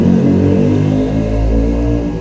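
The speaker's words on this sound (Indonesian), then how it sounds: "maaf, ada suara motor." Motorcycle engine rumbling steadily and loud nearby, a sustained mid-range drone with slight revving swell as it passes, no voices over it.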